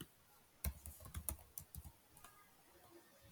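Faint, close clatter of computer keyboard typing in irregular bursts of keystrokes while entering code, with a few louder key hits and a quiet stretch at the end.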